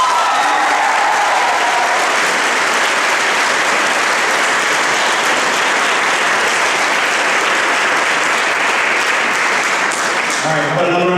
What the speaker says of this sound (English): how about another round of applause for all the seniors?